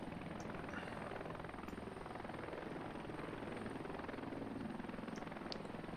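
In the Heliborne video game, a slow helicopter hauling an underslung load keeps up an even, pulsing rotor beat layered on a constant engine whine, sustained without pause.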